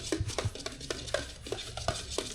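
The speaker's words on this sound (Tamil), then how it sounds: "30 லிட்டர் பெயிண்டை கலக்கிக்கலாம்." Thirty litres of paint being stirred by hand, a rhythmic series of soft knocks and scrapes from the stirring stick against the container, steady and close at low volume.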